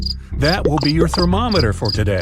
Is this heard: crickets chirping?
yes